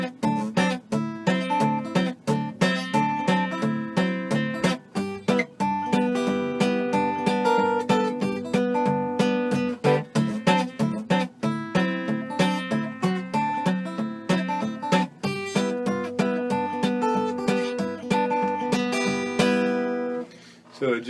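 Guitar picking with the thumb and one finger gives a steady thumping bass line under syncopated melody notes, so it sounds like two guitarists at once. The playing is close and continuous, with no talking.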